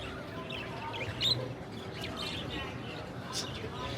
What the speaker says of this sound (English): Wow, look at all the birds. Parakeets. And they are packed in there.